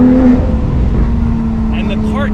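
Engine of a tuned Porsche 911 GT3 Touring burbles and drones steadily while driving at about 30 mph, heard from inside the car with a person talking over it.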